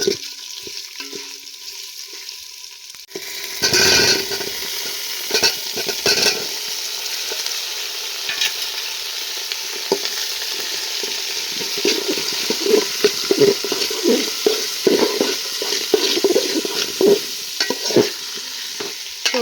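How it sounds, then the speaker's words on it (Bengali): Red lentils stirred in hot tempered oil for a vegetable khichuri, a steady close sizzle with scraping spoon strokes that grows busier after a quiet start, no voices. "ডালটা দিয়ে দিলাম দিয়ে একটুক্ষণ নাড়াচাড়া করে সবজিটা দিয়ে দেবো"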